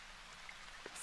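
Rain falls in the video game Senran Kagura, a faint, even hiss with a few soft droplet taps scattered through the brief moment.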